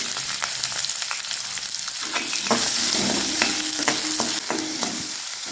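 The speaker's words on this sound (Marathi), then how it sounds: "आपण त्याच्यामध्ये बारीक चिरलेला कांदा टाकूया।" Finely chopped onion fries in a pan with green chilli pieces for a soybean curry, giving a loud bright sizzle with repeated sharp scrapes and clicks of stirring, close up.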